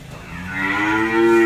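A cow on a cattle farm moos once, a loud, close, rising call that swells and holds steady over about a second and a half, with no talk.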